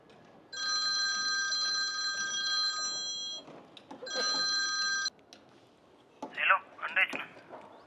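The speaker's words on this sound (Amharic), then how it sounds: "ምን ሆነ ነው ስልክ ማታነሳው" A telephone bell rings in two long, loud bursts separated by a short pause, followed by brief voices.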